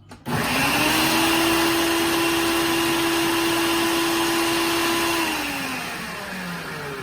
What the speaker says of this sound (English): I prefer to use my food processor here because it chops everything up in a flash for me.